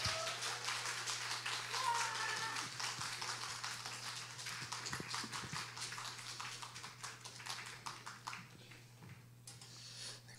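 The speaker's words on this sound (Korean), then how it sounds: "우리 큰 박수로 우리 목사님 맞이하도록 하겠습니다" A church congregation at a teachers' revival service applauds to welcome the pastor: a dense, sustained wash of clapping that holds steady, then gradually thins and fades toward the end over a low, constant hum.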